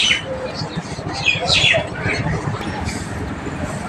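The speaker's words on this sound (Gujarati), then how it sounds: "ઘણા ચકલા આવે છે, ઘણા ચકલા ખાવા માટે" Small birds chirp and tweet in quick, overlapping bursts against a steady rumbling background, like sparrows gathered close by.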